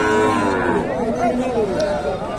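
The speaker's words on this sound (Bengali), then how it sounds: "উন্নত জাতের শাহী ও দেশ ফ্রিজিয়ান জাতের সার গরুগুলো উঠে থাকে" Sahiwal and Friesian bulls at a busy cattle market in Mahasthangarh, Bogura, lowing loudly and continuously with overlapping moos against steady crowd murmur.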